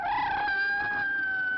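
A cat sound effect from an old phonograph record, a sustained wavering yowl with strong harmonic tones lasting about two seconds, loud and alone with no talk.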